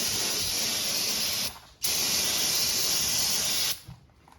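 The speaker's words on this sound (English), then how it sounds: "you want to get your brake parts cleaner and spray off this section so it's clean for the next new" Brake parts cleaner hisses from an aerosol can onto the disc brakes of a 1994 GMC Sierra in two loud, steady bursts with a brief pause between, close up.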